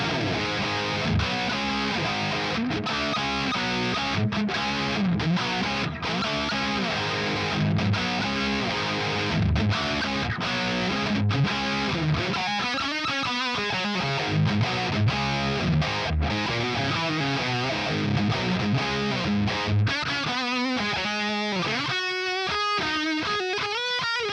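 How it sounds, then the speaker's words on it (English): A heavily distorted electric guitar plays through a Nembrini Audio Crunck V2 high-gain amp simulator plugin, thick crunchy chords and riffs ringing loud and continuous with no talking. "So let's crank up gain because we like gain"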